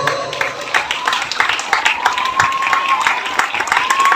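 MTS Negeri Singkawang students clap at a Maulid Nabi celebration stage, a steady crowd patter of many hands that carries on for several seconds alongside murmuring voices.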